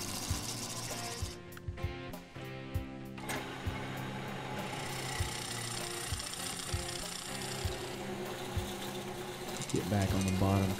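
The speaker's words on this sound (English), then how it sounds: "hollowing out the surface." A wood lathe hollows a natural edge magnolia bowl, giving a continuous whirring motor hum with a scraping cut running through it. The tone shifts and a brief louder burst comes near the end.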